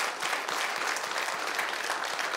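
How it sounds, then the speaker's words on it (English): Steady applause from a church congregation at an Easter service, a dense, even patter of many hands that stays fairly soft and somewhat distant for the whole stretch. "So let's clap for Dave here"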